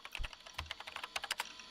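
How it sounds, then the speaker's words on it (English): Rapid, uneven clacking of a computer keyboard under touch typing, with crisp individual keystrokes spaced closely over a couple of seconds, close and alone with no voices. "The only sound present in the room was the distinct clacking of a keyboard."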